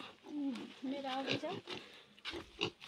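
Village pigs, three small and two large, grunt and squeal close by in a pen, in short bursts with brief pauses, while a person talks nearby.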